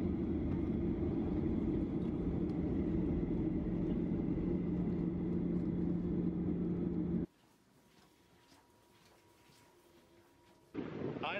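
A Ryanair airliner taxis to a stop after landing, heard from inside the cabin as a loud, steady engine rumble. It cuts abruptly to a quieter hum, then swells again at the end.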